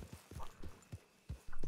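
Horse hooves clip-clop in the Red Dead Redemption 2 video game, a slow, uneven series of soft knocks from a walking horse, fairly quiet and heard alone.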